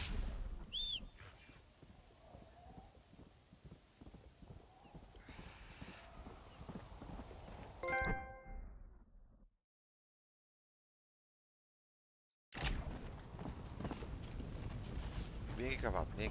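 In Red Dead Redemption: Undead Nightmare, horse hooves clip-clop at a steady walking pace, a horse whinnies, then the sound cuts out briefly before the hoofbeats resume.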